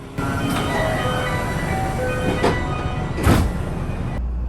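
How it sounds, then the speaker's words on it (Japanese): JR West Osaka Loop Line outer-loop train pulling out of Osaka Station, heard from inside the rear car: a steady rumble of rolling stock with a few brief knocks and rattles, and a louder surge near the end. "大阪駅を発車。"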